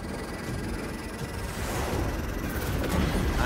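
An electric cannon fires in a Spider-Man video game, a dense, steady roar with crackling grit that swells louder over a few seconds and holds.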